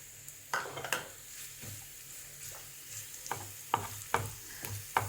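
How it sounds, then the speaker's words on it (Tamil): Onions fry in sunflower oil in a pan with a quiet, continuous sizzle. Occasional sharp clinks and scrapes from a stirring spoon cut through it. "வெங்காயம் கொஞ்சம் ஃப்ரை ஆகட்டும்"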